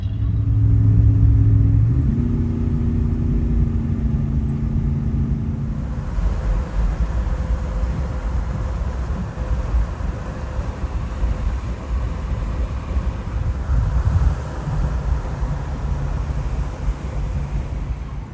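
A car towing a trailer cruises along the road on a cross-country drive, its steady engine drone and low road rumble continuous throughout, with a growing exhaust note and no voices.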